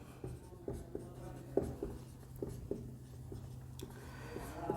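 Chalk or marker writing on a board during a chemistry lecture on atomic theory, a series of short scratchy strokes tapping and dragging in an irregular rhythm, close and clear over a low room hum with no talking.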